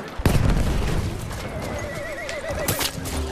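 A horse neighs with a loud whinny among clopping hooves and booming battle noise in the video game Battlefield 1, during Conquest at Fao Fortress.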